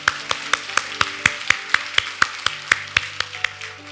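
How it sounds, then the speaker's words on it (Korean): Church congregation claps in praise during a Sunday service, about sixteen sharp, evenly spaced claps in a steady rhythm, loud and unified, with no talking. "우리 하나님께 감사와 영광의 박수를 드리겠습니다."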